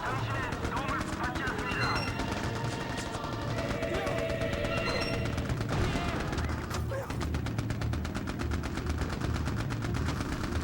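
Sustained video-game gunfire in Mercenaries rattles in rapid, loud bursts aimed at a jeep, with a voice talking over the steady barrage throughout.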